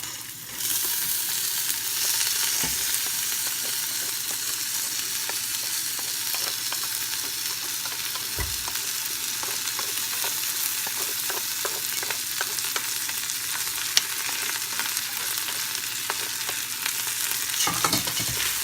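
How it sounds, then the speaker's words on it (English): Lentils and rice stirred into onions frying in olive oil in a pot, a continuous close sizzle broken by soft scraping and clicks from a spoon, steady throughout with no voices. "At this point I will add the lentil and the rice."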